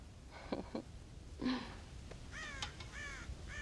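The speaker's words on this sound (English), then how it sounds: "God damn crows!" Several crows cawing in Red Dead Redemption 2, a few separate rough calls at mid distance, some short and some drawn out.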